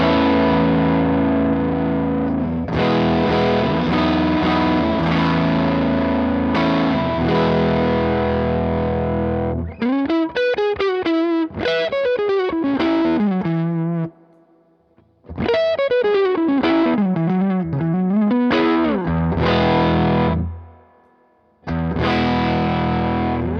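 Electric guitar runs through a Donner Dumbal Drive overdrive pedal, switching to mode 1 midway. Thick sustained distorted chords give way to bending lead lines, loud and continuous with short gaps and no talking.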